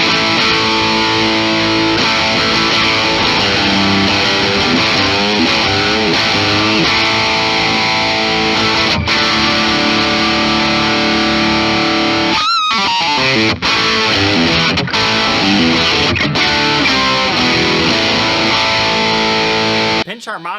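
A heavily distorted electric guitar plays sustained, gritty chords and bends, loud and up close, with brief cutouts between phrases.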